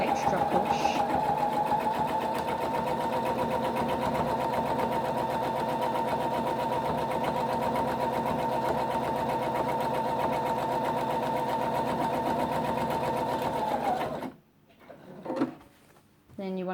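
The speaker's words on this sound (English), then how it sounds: "bit of a push just to get it started sewing again" A sewing machine runs steadily for about fourteen seconds, stitching a kitchen towel fabric, then stops; brief handling noises follow in quiet.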